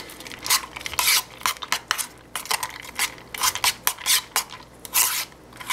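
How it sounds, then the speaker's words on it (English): Repeated scraping, clinking stirring strokes, close and rhythmic, mix a Backwoods Beef N Noodles backpacking meal after beef broth is added. "Alright, now just make sure it's all good and mixed up there."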